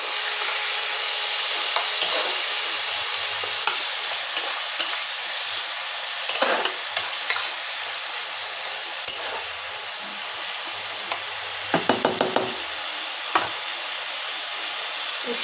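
Garlic paste, chopped green chili, onion paste and tomato puree fry together in oil for a Bengali chicken dish, a constant close sizzle broken by irregular spoon scrapes and clatters against the pan.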